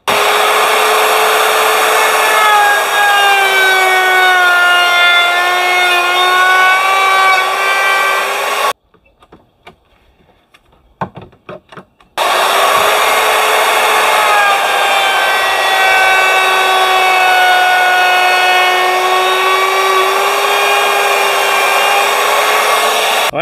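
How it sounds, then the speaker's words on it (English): A router cuts a wooden cigar box guitar neck clamped to the end of a work table, a loud steady high whine running continuously, stopping briefly for a few quiet knocks, then resuming. "After using the router, it looks like that."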